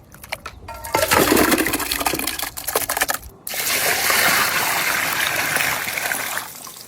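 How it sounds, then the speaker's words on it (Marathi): Kapure being washed by hand in clean water, with splashing and swishing, a sharp clatter of handling, then a steadier rushing pour of water that fades at the end. "आपण आता कपुरे व्यवस्थित धुवून घेऊ स्वच्छ पाण्याने।"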